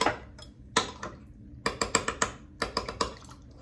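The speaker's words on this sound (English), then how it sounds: "I'm gonna use about half a teaspoon and I'm gonna mix it in the water" A spoon stirs bouillon base into a cup of water, making a series of sharp, quick clinks and taps against the cup in irregular bursts, close and clear with no talking.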